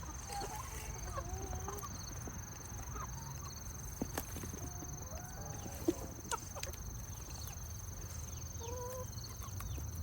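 Chickens cluck softly in short, scattered calls while scratching at grass, faint and somewhat distant over a constant low hum and steady high whine, with a few sharp clicks.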